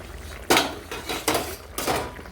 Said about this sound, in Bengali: এখন আমি ঢাকনাটা খুলছি।